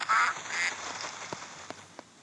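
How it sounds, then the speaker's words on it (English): A bird calls in the SurvivalCraft video game with a pair of short nasal quacks, then a few faint clicks follow in a quiet scene. "And a bird."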